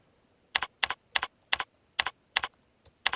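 Keystrokes on a computer keyboard while writing a script, about eight sharp clicks in quick, slightly uneven bursts, close and clear with no talk.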